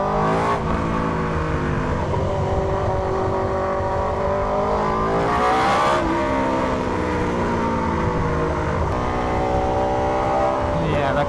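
Yamaha XTrenta motorcycle fitted with an SC GP22 exhaust, ridden on the road, giving a deep, loud, continuous engine drone with rising and falling revs across the whole stretch; a voice is also present.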